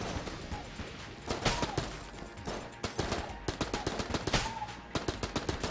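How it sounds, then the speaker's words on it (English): Rapid AK gunfire in the video game Enter the Gungeon, dense bursts of sharp cracking shots firing almost continuously with brief gaps, loud and close. "we're gonna go ahead and use our AK ammo here"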